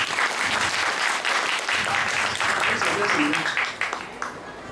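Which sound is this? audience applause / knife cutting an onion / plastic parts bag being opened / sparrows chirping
audience applause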